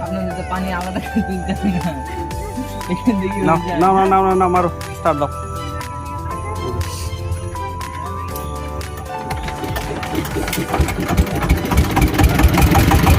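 A Changfa DI diesel engine cranks and catches, then settles into a loud, rhythmic idle knock that grows steadier toward the end, with no talk.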